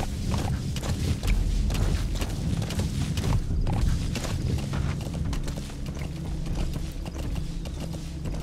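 Horse hooves clip-clop steadily in the Metal Gear video game, a brisk rhythmic trot under rumbling game ambience with occasional creaks.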